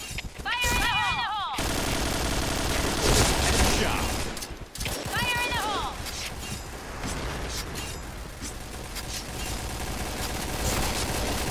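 Gunfire in the online shooter Point Blank: repeated loud bursts of rifle fire with metallic reload and mechanism clicks, near and steady for several seconds, with someone talking in places over the shooting.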